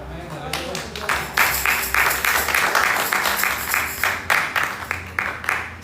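Church congregation applauding during an evangelist's sermon, with a steady run of overlapping claps, loud and close throughout the few seconds.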